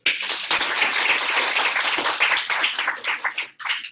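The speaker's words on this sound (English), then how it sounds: "Let's give her a round of applause" An audience claps for a woman at a business seminar. The clapping is dense and lively at first, then thins into scattered claps and dies away.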